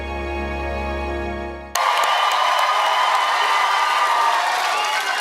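Large theatre audience at a Britain's Got Talent audition breaking into loud, sustained applause and cheering with whoops, following a held musical tone that cuts off abruptly.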